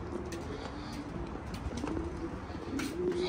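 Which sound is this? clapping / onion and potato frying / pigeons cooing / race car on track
pigeons cooing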